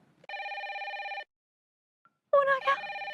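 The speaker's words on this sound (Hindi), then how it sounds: "फोन आ गया।" A telephone bell rings close by in a home, one steady electronic burst, then a pause before another ring begins, overlapped briefly by a voice.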